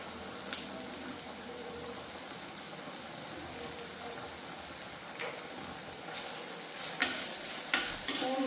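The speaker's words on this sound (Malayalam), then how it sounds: "ഇനി എല്ലാം കൂടെ നന്നായിട്ട് നമുക്കൊന്ന് വഴറ്റിയെടുക്കണം കേട്ടോ ഉപ്പ് ചേർത്ത് കൊടുക്കണം" Fish curry ingredients sauté with salt in a pan, giving a steady soft sizzle with scattered sharp scrapes and taps from stirring that grow busier near the end, with no voices.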